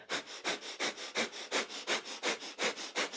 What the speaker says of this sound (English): thumbs plug up into the higher self, and it's a breath of fire here